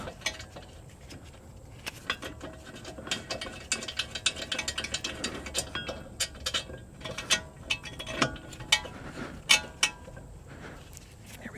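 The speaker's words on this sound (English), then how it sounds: "get this bracket remounted with our 217s and torque it down" Hand ratchet tightening the front brake caliper bracket bolts on a Toyota Camry with a 2.2L 5S-FE engine, a steady run of quick close clicks that grow louder toward the end, with no voices.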